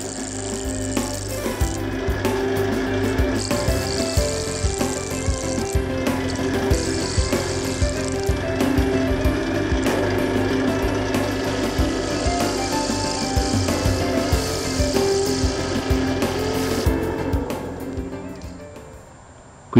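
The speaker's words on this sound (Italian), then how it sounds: "L'operazione si effettua con una sgorbia a dettaglio e con tagli delicati." A detail gouge makes delicate cuts on a segmented open wooden bowl spinning on a wood lathe, a steady whirring scrape with a humming tone that runs continuously before winding down at the end.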